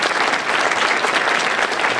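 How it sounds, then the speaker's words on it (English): An audience at a state economy address gives loud, continuous applause, a dense wash of clapping that stays even from start to finish. "Can we give her a round of applause?"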